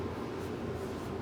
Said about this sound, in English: I got air conditioner going.